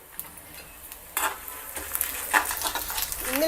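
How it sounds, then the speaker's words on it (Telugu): Chana dal, coriander seeds and cumin roasting in a pan, with faint sizzling and scraping and clinking stirs of a utensil against the metal, close and intermittent, with no talk. "ఒక స్పూన్ ధనియాలు ఒక అర స్పూన్ జీలకర్ర వేసి వేయించుకోవాలి"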